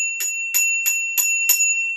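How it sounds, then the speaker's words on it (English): A self-recorded bicycle bell rings five times in an even, quick rhythm, each bright metallic ding close and clear with a sustained ringing tone between strikes. "I have a bike bell sound. I recorded it myself"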